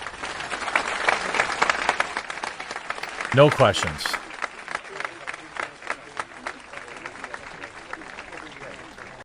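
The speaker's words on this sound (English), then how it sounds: "Imagine clapping for that" Applause from a group gathered at FEMA headquarters, moderate and somewhat distant, runs under close talking throughout.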